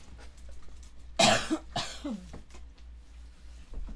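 A few sharp, loud coughs in quick succession close by, followed by a quieter throat-clearing sound, with near silence around them.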